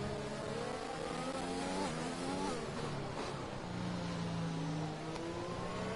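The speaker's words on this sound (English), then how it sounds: "And you can hear the lift" A race car at Abu Dhabi howls at high revs, its engine note dropping sharply as the driver lifts off the throttle, then climbing again on the straight, loud and close under race commentary.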